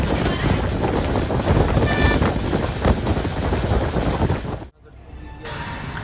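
Wind rushing in through an open bus window on a rainy day in Gujarat, a steady loud roar buffeting the microphone with no talking, briefly dropping away near the end before returning.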